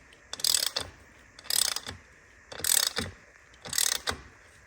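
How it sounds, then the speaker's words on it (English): Quarter-drive ratchet clicking in four short bursts while tightening screws on a full titanium high-rise Akrapovic exhaust with carbon parts on a BMW R NineT Racer, close and fairly quiet, with pauses between bursts. "I'm going to swap over to a quarter drive ratchet now."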